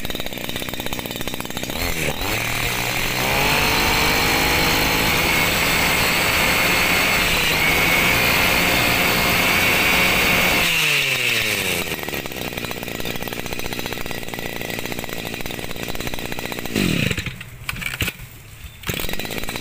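A Robin NB30 30cc Japanese brush cutter engine runs with a harsh, high-pitched two-stroke whine, revving up and holding steady, then dropping back to a rougher idle near the end.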